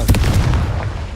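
A Confringo blasting spell explodes in Hogwarts Legacy with a heavy, booming burst and a couple of punchy follow-up thumps, loud and close, then rumbling away.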